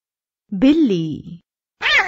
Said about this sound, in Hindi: बिल्ली